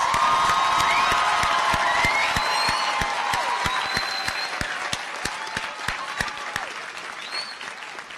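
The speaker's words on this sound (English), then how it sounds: "Let's give the graduating class of 2019 a round of applause." A large crowd at a 2019 St. George's University commencement ceremony in Grenada claps loudly and steadily, with scattered cheers and whoops, the applause gradually thinning toward the end.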